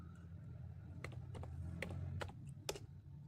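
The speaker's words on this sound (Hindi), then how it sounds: "फिर से हमें वही पासवर्ड एंटर करना है दोबारा" A password typed on a keyboard: a handful of quiet, separate key taps at an uneven pace over a faint background hum, with no talking.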